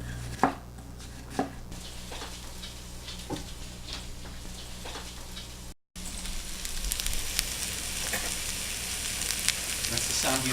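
Onions sizzle in a hot pan with a steady, bright crackle. A few sharp knocks of utensils come early on, and the frying grows louder after a brief gap.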